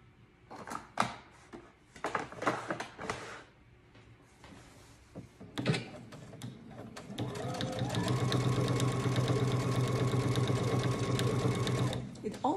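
A sewing machine top stitches around the trim of a McCall's M7831 garment, starting with scattered handling clatter and short bursts, then running in a long steady whir for about five seconds; a voice talks near the start.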